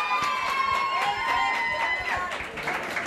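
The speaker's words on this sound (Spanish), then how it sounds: "Fuerte el aplauso para María Fernanda, por favor." Loud audience applause and cheering fill the hall at a singing competition final, a dense continuous wash of clapping with crowd voices rising through it, dipping slightly near the end.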